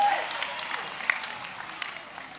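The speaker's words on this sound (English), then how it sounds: "I want you to give yourselves a round of applause" A crowd of DA supporters at a rally in KwaZulu-Natal breaking into applause, a dense wash of clapping and cheering that fades slightly over a couple of seconds.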